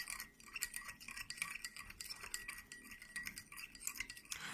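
Sand particles stirred in a container of water, giving a steady, quiet scraping and swishing with fast rhythmic strokes that run throughout.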